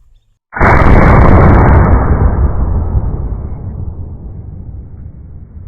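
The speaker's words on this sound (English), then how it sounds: "Let's shoot some ballistic gelatin." An 1887 lever action rifle chambered in .70 Winchester Express fires once into ballistic gelatin: a single very loud, close blast erupts after a short quiet moment and its boom decays slowly over several seconds.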